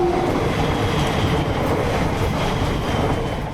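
A new Class 345 Aventra nine-car electric train runs along a test track, giving a continuous loud rumble with rail clatter and faint wheel noise that holds steady throughout.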